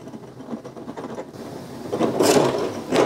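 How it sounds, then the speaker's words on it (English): A small LED bulb is screwed into a compact E12 socket on a 3D printed floor lamp, giving soft close clicking and scraping twists that grow slightly louder toward the end, with no voices. "screw in your bulb"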